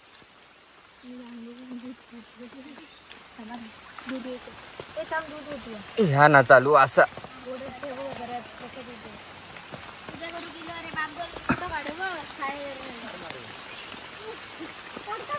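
Rain hisses steadily in the background while several people talk nearby, one voice briefly rising louder partway through.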